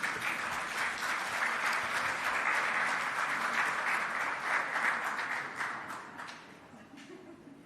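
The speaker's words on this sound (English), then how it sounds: "I don't have to ask if she deserves another round of applause" Audience applause at an official programme launch, a sustained, fairly distant roar of clapping that holds steady for several seconds before thinning and tapering off near the end.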